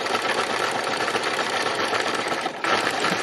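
A sewing machine doing free machine embroidery on fabric flowers runs with a fast, steady mechanical whir and rattle, close and continuous, with a brief dip near the end.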